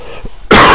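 A single loud, harsh cough bursts close to the microphone after a brief quiet moment.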